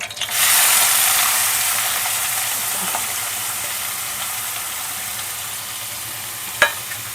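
Chopped onion drops into hot oil with whole spices for a prawn pulao, a sudden loud hiss that settles into a steady, even sizzle, with a single utensil clink near the end.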